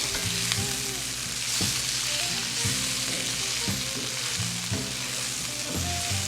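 Eggs frying in a pan alongside potatoes for breakfast, a dense, steady sizzle up close with occasional scraping taps and no voices.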